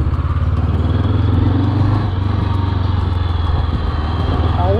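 A Morbidelli T520X 500cc motorcycle runs steadily during a ride, its engine droning loud and close with a constant low throbbing pulse and wind rush throughout.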